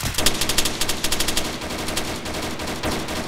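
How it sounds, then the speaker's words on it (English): Rapid bursts of automatic gunfire crackle in Arma 3 as enemies shoot from the woods, a fast rhythmic string of shots followed by a denser, more scattered volley. "getting shot at by Fengs. They're in the woods to the south."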